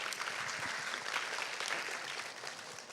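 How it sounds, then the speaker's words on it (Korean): An audience claps after a conference talk at a developer event, a steady dense patter of many hands held at moderate level for three seconds without letting up. "다시 한번 큰 박수 부탁드립니다"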